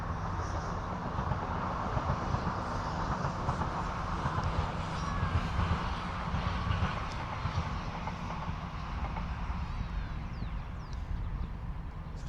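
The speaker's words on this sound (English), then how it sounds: "And we've got another train coming past." A train rolls past at a distance in South Norwood, London, with a continuous rumbling roar and faint rail squeals, steady throughout, with no talking.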